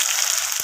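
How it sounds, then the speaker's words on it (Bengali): Paneer pieces being turned and fried in hot oil give a brief, steady, close sizzling hiss with a soft bubbling pop near the end. "তো পনিরগুলোকে এইভাবে উল্টে পাল্টে একটু দুপিট ভেজে নেব"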